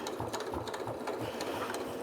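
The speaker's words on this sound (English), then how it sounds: "I'm going to top stitch this shut" A sewing machine top-stitches the edge of a fabric face mask closed, running steadily and close by with a quiet, even mechanical chatter and no pauses.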